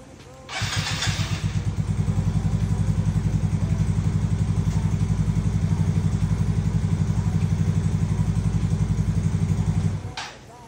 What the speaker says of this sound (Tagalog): Narinig nyo naman yung andar niya. Sobrang smooth na, tapos walang ingay yung makina.